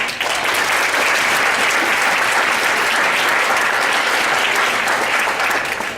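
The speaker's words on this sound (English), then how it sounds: "And can we give Julianne a round of applause?" An audience gives a loud, sustained round of applause for Julianne at a Shabbat gathering, a dense wash of clapping hands that holds steady for the whole stretch.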